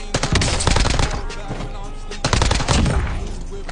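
Rapid submachine gun bursts crackle in a first-person shooter match, two dense loud volleys separated by a brief lull, with faint game announcer voice underneath.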